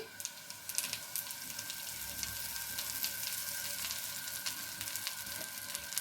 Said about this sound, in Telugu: ఇప్పుడు దీన్ని తీసి మనం కడాయిలో వేసి వేపుకోవాలి